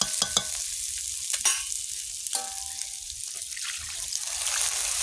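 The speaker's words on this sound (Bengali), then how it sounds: "তেল ছেড়ে এসছে ডিমগুলো দিয়ে দিব হালকা নেড়ে একটু জল দিয়ে দিব" Eggs go into hot oil that has separated from a cooked masala and are stirred gently, starting with several clattering taps and bursts of sizzling, then settling into a steady, rising hiss of frying.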